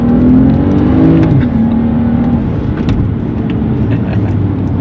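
A Stage 3 tuned BMW 135i revs hard and accelerates up close, its loud engine note rising and falling in pitch, then holding a steady roar with road noise underneath.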